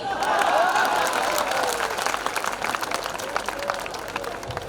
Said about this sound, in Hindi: और ये उन्हीं लोगों ने ताली बजाई है जो मेरी तरह है।